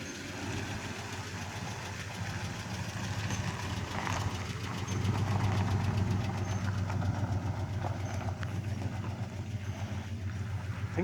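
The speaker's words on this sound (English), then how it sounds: "I think it's got an exhaust leak pretty bad, or a lifter tap." A 1975 AMC Matador with a 304 V8 idles steadily up close, its low rumble carrying a faint ticking that could be an exhaust leak or lifter tap, swelling slightly midway as if given a touch of throttle.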